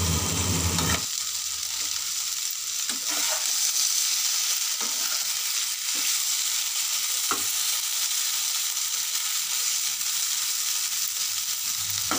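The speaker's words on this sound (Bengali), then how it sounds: "এবার পিঠেগুলো দিয়ে বেশ কিছুক্ষণ নাড়াচাড়া করে ভেজে নেব।" Pitha cakes fry in hot oil, giving a constant dense sizzle at close range with periodic scraping taps as a spatula turns them over and over.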